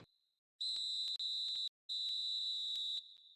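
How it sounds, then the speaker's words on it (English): Referee's half-time whistle in an eFootball match, a sharp high whistle in three blasts, two short and one longer, clear and alone over near silence. "And there is the half-time whistle."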